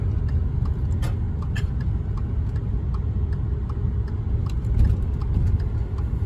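A car with a 400+ horsepower engine, about 365 horsepower at the wheels, drones in a steady low rumble heard from close by, with occasional light ticks on top and no talking.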